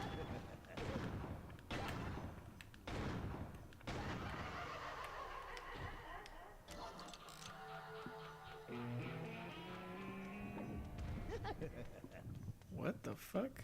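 Gunshots in the video game Killer7 crack in a few sharp, loud bursts early on, followed by game sounds and tonal effects, with someone talking over the action.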